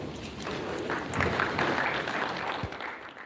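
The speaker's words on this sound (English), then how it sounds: "I would like to give a big round of applause for Dr." Scattered audience applause at a medical conference on knee osteoarthritis, a fairly quiet patter of hands lasting a few seconds and trailing off.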